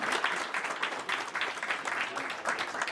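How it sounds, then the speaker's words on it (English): Audience applause at a Greenbrier County Republican Executive Committee meeting, a steady crowd of clapping hands sustained evenly for about three seconds with no talk over it. "Let's give her a round of applause."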